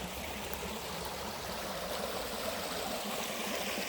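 A brook in the woods of Northern Maine, feeding into Red River, flows with a steady close rushing and burbling wash on a hot day. The water sound is continuous and there is no talk.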